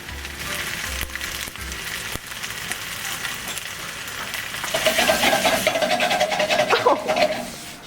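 Fried tofu with chili paste and roasted sesame is stir-fried in a pan, with soft scraping and stirring at first, then a louder sizzling that swells in the second half and runs on to the end.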